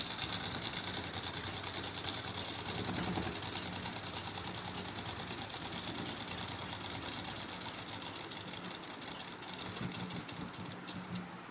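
A sewing machine runs steadily, stitching a seam on a kurti in one continuous, even whir with a fast rattle. It sounds close and moderately quiet, with no talking.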